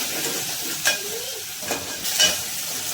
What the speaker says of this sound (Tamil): வெங்காயம் சேர்த்தாச்சுங்க இதை நம்ம வதக்கிக்குவோம்